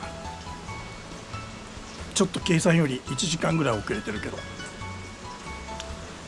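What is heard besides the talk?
heavy rain during Shikoku pilgrimage walk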